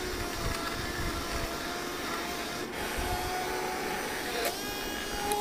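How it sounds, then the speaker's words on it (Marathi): A hand blender whirs continuously through mango lassi made with chilled curd, a steady close-up motor buzz with slight rubbing variations and no talking. "आता हँड ग्राइंडरने छान तो असा मिक्स करून घेणार आहे छान"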